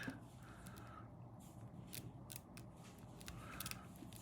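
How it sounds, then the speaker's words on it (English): Very faint, close mechanical clicking and ratcheting as a Rebellion T1000 manual-wind watch with titanium case and in-house chain-driven movement is wound by its crank, small ticks repeating in quick irregular bursts. "you just crank it. And you can hear it winding"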